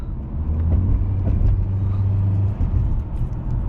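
A 2009 Acura TSX engine pulls under acceleration from inside the car, a loud steady low rumble with a droning tone that holds, then briefly dips near the end.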